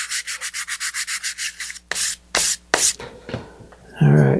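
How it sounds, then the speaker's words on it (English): A model rocket fin being sanded with 320 grit sandpaper: a close, rhythmic series of about a dozen quick rubbing strokes, then a few longer, slower passes, ending with a brief rustle. "I'm going to switch to 320 grit sandpaper."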